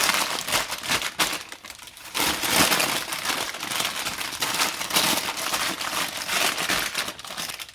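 Parchment paper crinkles and crumples close up while being molded around a chocolate sausage, in repeated bursts of crisp rustling, loud and continuous with brief pauses.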